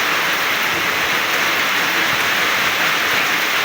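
Steady rain pours down in a constant, even hiss, loud and close, with no voices, after a typhoon.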